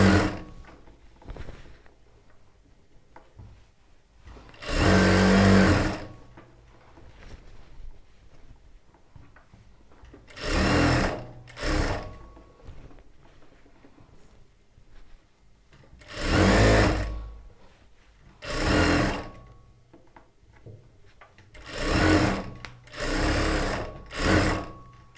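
A sewing machine stitches the lining of a churidar top in several short, loud bursts, each a few seconds long, separated by quiet pauses.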